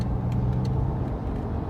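A BMW driving on the A6 autobahn in Germany, heard from inside as a steady, loud broadband road and engine rumble with no pauses or talking.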